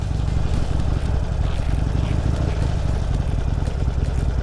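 A motorcycle engine hums steadily at elevated revs while the clutch is slipped in the friction zone, a close, continuous low drone without breaks.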